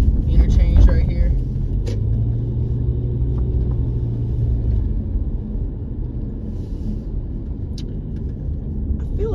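A car drives at night through Plainfield, New Jersey, with a steady low engine and road rumble throughout and a heavier vehicle noise passing early on.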